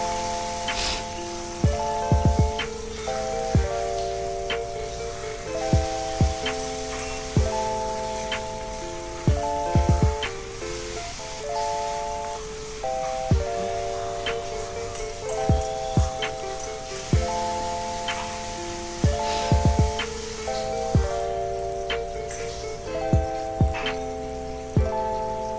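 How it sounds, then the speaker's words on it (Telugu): Onions and curry leaves fry in hot oil for a beans fry, giving a steady crackling, rain-like sizzle that stays low beneath a continuous melodic music track with regular percussive hits. "కొంచెం ఆనియన్స్ బ్రౌన్ అయిన తర్వాత అయ్యే వరకు మనము ఫ్రై చేసుకుందాము"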